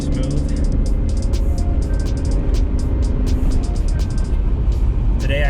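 A stock Toyota Aristo with its 2JZ engine rolls along, the engine kept quiet beneath a steady, close cabin rumble of road and tyre noise, with a faint repeated ticking running over the top.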